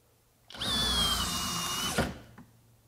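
A FLEX FX1271T 24V hammer drill driver whirs at high speed for about a second and a half in a shop, starting and stopping abruptly, loud and close with no other sound.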